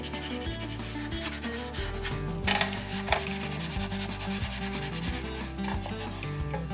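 A model surface is scuffed by hand with 3600-grit abrasive, producing a close, continuous dry rubbing rasp in quick back-and-forth strokes, heard alone.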